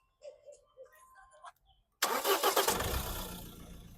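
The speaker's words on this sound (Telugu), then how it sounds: "బండి సింగిల్ సెల్ఫ్లో స్టార్ట్ అవుతుంది" A 2017 Mahindra XUV500 W10 diesel SUV cranks and fires on the first try, then settles into a loud, close, steady diesel idle, with a few soft sounds before it.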